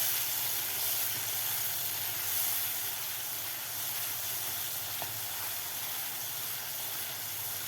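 Soaked spices being stir-fried in a pan for a Navratri prasad dish, a steady hiss and sizzle running evenly throughout, fairly faint, with no talking.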